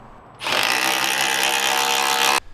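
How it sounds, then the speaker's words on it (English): A Milwaukee M18 Fuel Surge hydraulic impact driver runs steadily for about two seconds, a dense whirring, rattling drone as it drives a 1/2-inch lag bolt, then stops abruptly. "here's what the Surge sounds like driving a 1/2-inch lag bolt"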